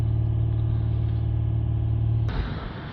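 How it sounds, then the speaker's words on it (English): A Mercedes E350 3.0 V6 CDI diesel engine with a blocked diesel particulate filter holds a steady, close, droning low rumble, then its tone shifts abruptly as the revs change near the end. "If we increase the engine RPM"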